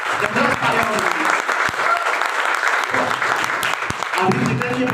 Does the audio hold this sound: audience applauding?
yes